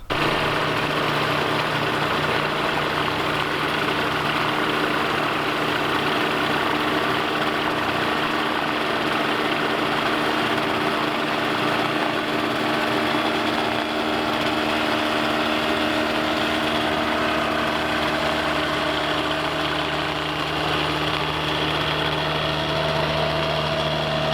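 A Rotax 503 dual-carb, dual-ignition engine on a Phantom ultralight aircraft idles steadily and loudly for the whole stretch, a constant buzzing drone with a slight knock and no voices.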